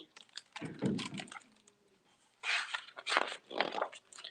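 Typewriter keys clacking in short rapid bursts, close and fairly loud, separated by pauses, with no talking.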